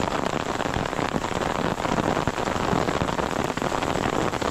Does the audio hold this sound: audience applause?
no